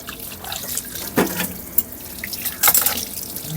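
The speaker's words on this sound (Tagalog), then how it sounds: "Maganda nga dito, malakas ang tubig" Strong tap water runs into a sink in a home kitchen while dishes are washed, a steady close splashing with bursts of louder spatter as things pass under the stream.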